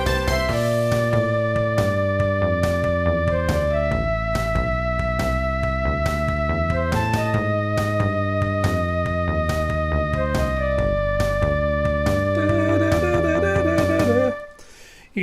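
Song built in the Music 3000 music-making video game plays back, with a steady beat, bass and repeating synth melody running loud for about fourteen seconds before cutting off abruptly.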